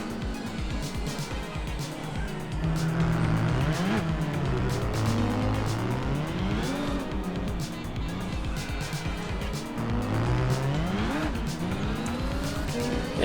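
A Nissan Skyline GT-R races in Gran Turismo 4, its engine revving and shifting continuously up and down with tire squeal, loud and steady throughout while someone talks over it.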